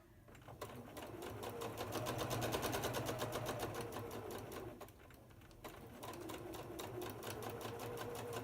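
A sewing machine runs steadily at close range while piecing quilt blocks, its rapid even needle ticking continuing with a brief slowdown midway before resuming.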